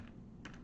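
A few faint keystrokes tap on a computer keyboard in a brief burst, quiet and close over low background hum.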